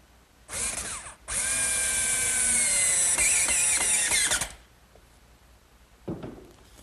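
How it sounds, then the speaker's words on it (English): A power drill driving screws to fasten a top assembly onto a bookcase cabinet: a brief whir, then one sustained high-pitched run of about three seconds with clicking as the screw seats, close and loud. "Now this top assembly gets fastened to the cabinet with screws."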